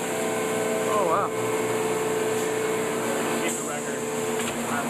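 A vinyl record press machine runs on a record plant floor, giving a steady mechanical hum with tonal whine and faint clanks throughout, under voices talking.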